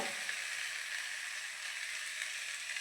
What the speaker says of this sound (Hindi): चिकेन ढालिबा।